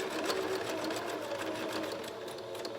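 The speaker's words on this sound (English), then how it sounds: "Sew your mask." Sewing machine stitching a fabric face mask, a steady close motor whir with rapid needle clatter running continuously throughout, no voices.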